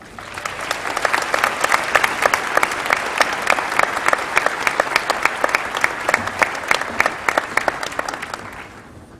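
A commencement audience applauds a guest speaker at Western Washington University's winter ceremony, steady and full clapping from a large crowd that holds for several seconds and then fades at the end.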